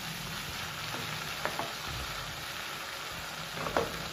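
Tomatoes sizzle and fry steadily in a pan while they are mashed. Occasional soft taps and scrapes from the utensil sound over the constant hiss.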